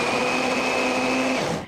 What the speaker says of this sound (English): Now we're gonna blend this until smooth